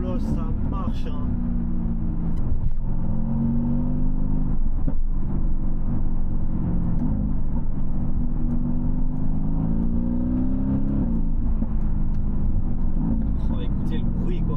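Mercedes-AMG GT V8 driving hard, its deep engine note droning loudly throughout and rising and falling with each gear pull, while someone talks excitedly over it.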